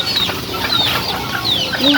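Chickens cluck and chatter at feeding time in a yard alongside doves, with thin, high bird chirps scattered over a steady outdoor background, moderately close and with no speech.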